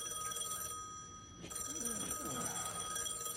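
A telephone rings indoors at a house, its bell tone faint and steady through a low background hum, with a voice murmuring underneath.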